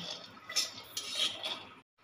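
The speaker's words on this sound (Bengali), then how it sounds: "প্রথমে চীনা বাদামটা ভেজে নিচ্ছে।" Peanuts fry in sunflower oil while being stirred in a pan, producing close, soft scraping and clinking strokes over a low sizzle, with a brief silence near the end.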